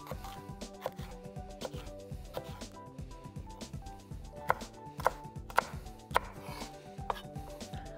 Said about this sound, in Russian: я нарезал зеленый лук и 2 вида перца.